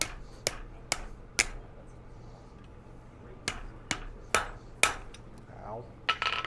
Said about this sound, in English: Take our hammer, go straight down the middle.